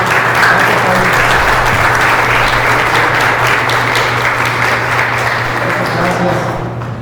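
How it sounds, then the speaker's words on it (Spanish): An audience at a judicial reform forum of a Yucatán law postgraduate association applauds a speaker with dense, loud, sustained clapping that holds steady for several seconds and then begins to fade at the end. "Un aplauso para la doctora."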